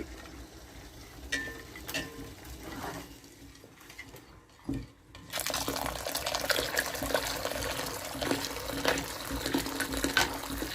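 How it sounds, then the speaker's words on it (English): Hot water poured into a custard mix for Nigerian custard, a soft trickle at first, then after a brief pause a louder, steady splashing pour that continues to the end, close by. "So now I'm going to add in my hot water."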